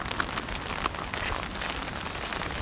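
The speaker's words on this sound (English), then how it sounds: "it is actually raining. It's not super hard, but it's coming down." Steady rain patters on a Backcountrylite camping tarp during a thunderstorm, a dense close-up drumming of drops with occasional louder splats, no voices.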